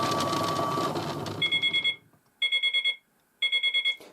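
A Miele Novotronic toy washing machine by Theo Klein whirs loudly as its drum spins at speed, then the noise cuts off and three sets of quick electronic beeps follow, each set about five pips long.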